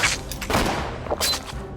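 A few sharp gunshots from the pirate video game Caribbean Legend, with two loud cracks close together over a continuous game background.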